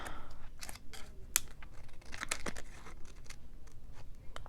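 Scissors cutting beeswaxed vellum or tracing paper, several crisp snips and papery crinkles at close range, irregular and fairly quiet, with no talk.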